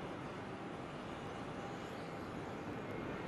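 A private jet rumbles at John Wayne Airport, a steady broadband roar heard from a moderate distance and holding even without obvious rise or fall, no voices over it.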